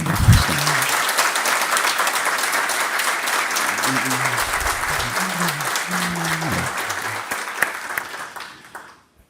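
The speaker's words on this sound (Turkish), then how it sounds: "Kuvvetli bir alkış şimdi." Sustained applause from a crowd at a sports awards ceremony, steady clapping that fades out at the end, with a voice speaking briefly underneath.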